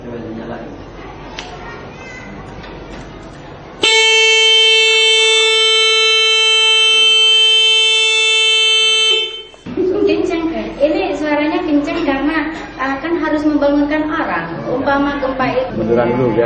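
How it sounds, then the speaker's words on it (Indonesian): A homemade 12-volt earthquake detector alarm rings a loud, steady electronic tone alone for about five seconds, cutting off abruptly, with people talking before and after it. "Jika terjadi guncangan gempa, maka alarm tersebut akan berbunyi."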